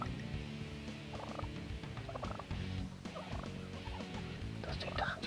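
Wild turkey toms gobble repeatedly in a loud, dense chorus, several birds overlapping close by with bursts of rattling calls throughout.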